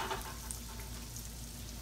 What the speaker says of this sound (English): Start frying them off there.